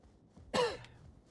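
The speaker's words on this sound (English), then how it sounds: "Just gonna be some random coughing here and there." A single short, rough cough or throat-clear from a person, close and abrupt, rising out of near silence and trailing off quickly.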